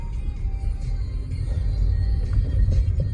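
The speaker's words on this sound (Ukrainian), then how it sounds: "Трогається машина дуже плавно." A Skoda Octavia A5 with a 1.8 petrol engine and all-wheel drive pulls away smoothly in first gear, heard from inside the cabin as a low, steady engine rumble that swells gently as it moves off.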